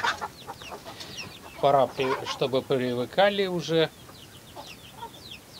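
Young roosters and hens on a farm, hungry at feeding time, give a rapid run of loud, close clucks and squawks in the middle, while someone talks briefly at the start and end.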